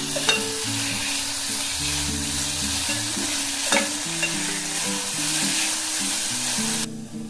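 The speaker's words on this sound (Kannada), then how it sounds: "ಬೇಯಿಸಿರುವಂತಹ ಸೀಮೆ ಬದನೆಕಾಯಿನ ಹಾಕೊಳ್ಳೋಣ. ಸ್ವಲ್ಪ ಚೆನ್ನಾಗಿ ಮಿಕ್ಸ್ ಮಾಡಿ" Mosaru sambar with brinjal being stirred in a pan, a steady close scraping and sizzling with spoon clinks, continuous and alone with no talk over the tonal background.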